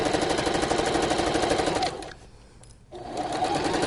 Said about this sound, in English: So you want to make sure you're sewing right along that very edge.